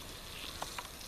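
Water at a rolling boil in a pot on a wood gas stove outdoors, a steady close hissing bubble with a couple of brief pops, heard alone.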